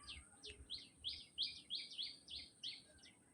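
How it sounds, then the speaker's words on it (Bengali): Small birds chirping on a morning rooftop after light overnight rain, a quick run of about ten bright, evenly spaced tweets, close and clear over quiet background hiss. "পাখির কিচিমিচির শব্দ"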